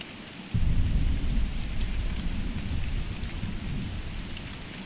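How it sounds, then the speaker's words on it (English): Rain and thunder in the survival video game Don't Starve: a sudden onset of dense, steady rainfall with a deep rumbling thunder underneath, continuous and fairly loud throughout with no talking. "Oh no, rain."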